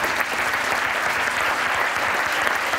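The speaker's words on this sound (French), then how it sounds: "On peut l'applaudir." A large audience at a live space-mission event broadcast from CNES, applauding the Mars landing of the InSight probe carrying the SEIS instrument, with dense continuous clapping, loud and close, and no voices over it.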